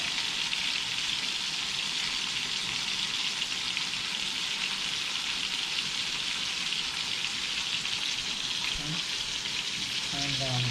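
Veggies and a prime ribeye steak for fajitas sizzle steadily in a hot pan, a dense, continuous frying hiss that stays loud and close throughout, with a few faint clinks near the end.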